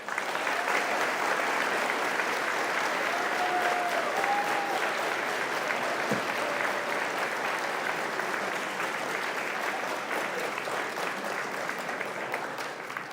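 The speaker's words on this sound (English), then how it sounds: "and you can clap" Cadets and guests at a military encampment awards ceremony clap for a video, a long even wash of steady applause filling the room throughout.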